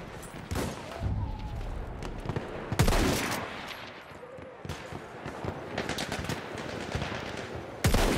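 Gunfire in a video game: bursts of rapid automatic shots with several sharp loud cracks, broken by short gaps, with a voice speaking over parts of the firing.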